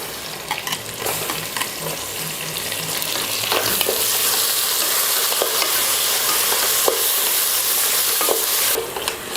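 Onions and green chillies sizzle steadily in a pan as three tomatoes are added for a school lunch dish, with a continuous close frying hiss, scattered scraping stirs and a few sharp crackles, no voices.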